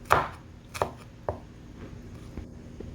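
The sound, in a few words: chopping spices with a knife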